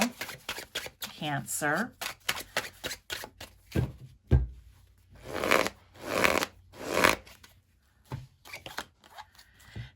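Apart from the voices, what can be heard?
shuffling and drawing tarot cards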